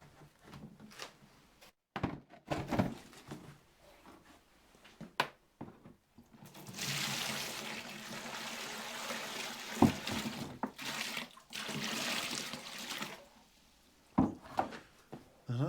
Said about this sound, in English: I'll get that block in a bucket here and start rehydrating it.